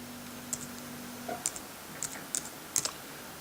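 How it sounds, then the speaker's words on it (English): A password being typed on a computer keyboard: about half a dozen sparse, crisp key clicks in an irregular rhythm, close and quiet over a faint steady hum. "if I type in my password"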